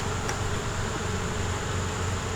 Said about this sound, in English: Get the bees out of the way.